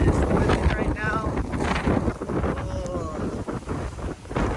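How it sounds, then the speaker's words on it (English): Strong, gusting hurricane wind (Hurricane Ian, Cape Coral, Florida) roars across the microphone with broadband rumble and hiss, with faint voices partly buried beneath it. "Ooh, it is windy right now."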